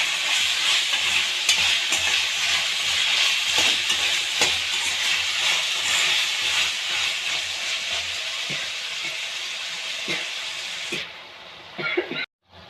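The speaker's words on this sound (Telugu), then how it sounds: "ఇలా కలుపుకున్న బంగాళదుంపల్ని ఒక 5 నిమిషాలు హై ఫ్లేమ్ అయినా పర్వాలా మంచిగా యాగనివ్వనండి." Potatoes with turmeric fry over a high flame in a pan, sizzling loudly and steadily up close, with occasional scrapes and stirs, before the sound cuts away near the end.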